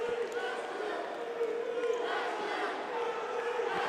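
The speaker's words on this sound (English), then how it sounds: "You can hear the crowd getting into it on both sides." Crowd at the NCDA 2023 Nationals championship volleyball match between the Buckeyes and Lakers, a steady distant roar of cheering and shouting from both sides, with a commentator talking over it.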